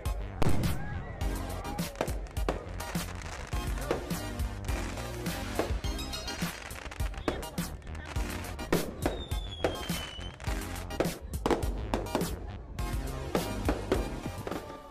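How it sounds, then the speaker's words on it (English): Fireworks go off in a dense, continuous barrage of cracks and bangs for about fifteen seconds, loud and overlapping, with faint whistles rising here and there. "At midnight, there is explosive celebration of light and color in the sky as fireworks shows go off"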